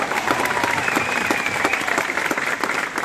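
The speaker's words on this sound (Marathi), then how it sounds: "अरे आता टाळ्या वाजवा, नका घाबरू, वाजवा टाळ्या" Clapping spreads through the crowd at a political speech rally, steady and dense throughout with a faint murmur from the crowd underneath.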